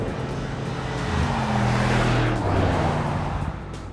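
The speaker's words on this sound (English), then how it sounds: "this one now gets Mercedes-AMG 4-litre V8. And it sounds like that." 2018 Mercedes-AMG G 63 with its 4-litre V8, a loud deep engine rumble that swells as it revs or passes, then eases off, close and on its own without talk.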